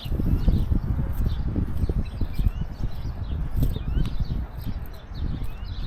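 Many birds chirp in a park along a brick pathway on a morning walk, scattered high calls over steady footsteps and rustling.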